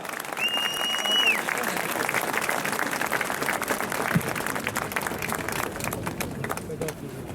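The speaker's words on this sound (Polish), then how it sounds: "Wielkie brawa!" A crowd at a Polish rally gives Janusz Korwin-Mikke dense, steady applause that fills the space at a moderate level, with a brief whistle near the start.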